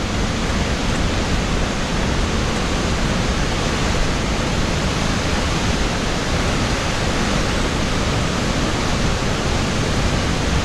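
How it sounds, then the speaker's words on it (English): The Rio Celeste waterfall roars in a loud, steady, unbroken rush of water, heard up close with no voices over it. "The biggest and strongest waterfall Gary and I have seen."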